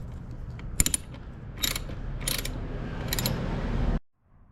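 A ratchet wrench works a loose hex-head bolt inside a Mazda RX7's interior, giving a few brief clicking bursts over a steady low mechanical hum, close up with no talking.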